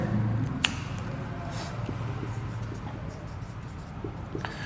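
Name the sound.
writing by hand during a maths lesson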